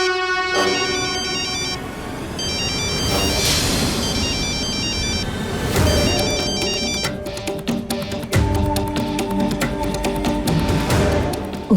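A phone rings with a repeating electronic tone over a busy, droning background, the looping melody carrying steadily through the clip with no talking.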